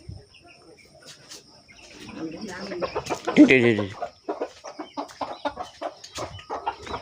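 Chickens cluck and squawk nearby in a short burst of busy calls, surrounded by quieter scattered clucks.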